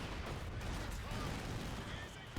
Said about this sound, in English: This barrage coming on in.